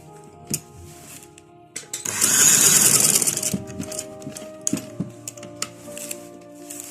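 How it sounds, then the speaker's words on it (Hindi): A sewing machine runs a double line of stitching on a kurta, with one steady whirring burst of about a second and a half. Scattered light clicks and handling taps come before and after it. "यहाँ से अब हम सिलाई लगाएंगे। यहाँ से आपने डबल सिलाई लगानी है।"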